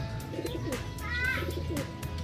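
Racing pigeons coo softly and repeatedly in the background during a training flight, with a low steady rumble and a few faint chirps around them.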